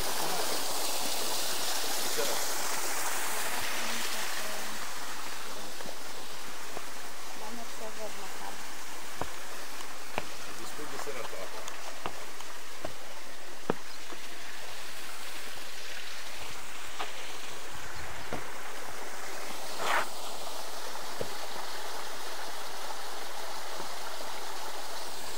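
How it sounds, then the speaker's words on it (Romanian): Water from the salty spring of Saint John the Baptist in the Jordan Valley flows and splashes steadily near the listener, a continuous stream-like rush with a few faint voices underneath. "ocazie unică să vedeți, cei care n-ați fost, izvorul Sfântului Ioan Botezătorul"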